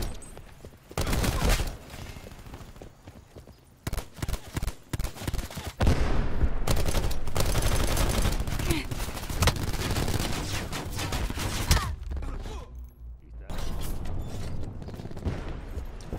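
Sustained gunfire from a Call of Duty Black Ops 4 team deathmatch, with long automatic bursts, short staccato volleys and heavy booms overlapping almost continuously, loud and close.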